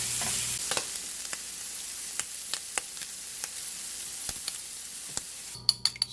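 Ham browning in a hot pan gives a steady sizzle and fry hiss, broken by a series of sharp utensil scrapes and taps, then louder clatter at the end; no talking.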